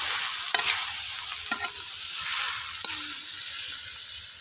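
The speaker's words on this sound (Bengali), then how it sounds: "পেঁয়াজ ভাজা হয়ে গেছে" Onion sizzles steadily in hot oil with ginger, garlic and chili, a close, continuous hiss broken by a few sharp clinks and scrapes of stirring.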